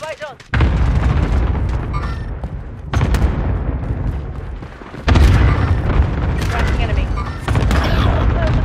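Heavy, sustained booming blasts of a cluster strike in Call of Duty Warzone, arriving in several loud waves that rumble on continuously for seconds, with no pauses between them.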